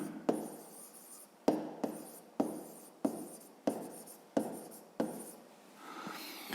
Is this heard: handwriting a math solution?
yes